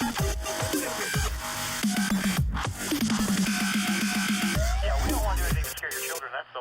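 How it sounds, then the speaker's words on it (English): Dubstep music excerpt with pounding bass drops, wobbling synth bass and rhythmic electronic beats, loud and continuous without talk. "perhaps it's unsurprising that the generations might be divided by dubstep, which sounds like this."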